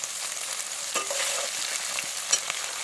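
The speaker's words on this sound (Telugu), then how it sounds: "మంచిగా ఆనియన్ వేగనివ్వండి" Onion fries in a pan for mutton fry, giving a close steady sizzle with a few scraping stirs of a utensil. No voices.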